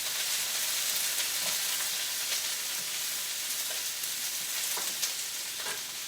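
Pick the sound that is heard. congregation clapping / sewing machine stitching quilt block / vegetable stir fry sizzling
vegetable stir fry sizzling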